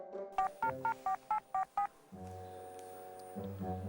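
Seven short electronic keypad tones sound in an even sequence as a telephone number is dialed, followed by a steady ringing tone from the phone line.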